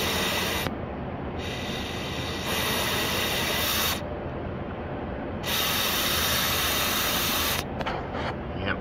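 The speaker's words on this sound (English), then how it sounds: "Yep, spray a bunch of it." Penetrating lubricant sprayed from an aerosol can onto a stuck PTO pulley in long, loud, steady hissing bursts, with a brief pause in between and a few short sputtering spurts at the end.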